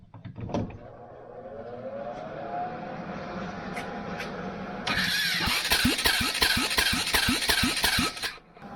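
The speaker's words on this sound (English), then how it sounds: "Definitely sounds like it's got some starter gear issues." A 2005 Honda CRF450X with faulty starter gears tries to start: the starter whirs and grinds, then a loud, rapid, rhythmic squealing chatter runs for several seconds before stopping, close and alone.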